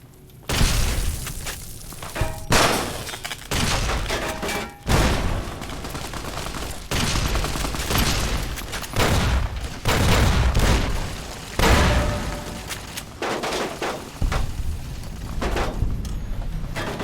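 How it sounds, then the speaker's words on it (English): Repeated gunfire bursts and impacts in Fallout New Vegas, loud and near, with shots and shattering cracks layered over a constant dense battle din for the whole stretch. "Who the hell's shooting at me now?"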